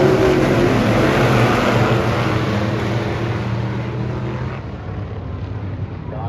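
A race car at Brownstown Speedway accelerates hard, its engine a loud, steady roar that fills the whole clip and fades slightly toward the end. There is no talk.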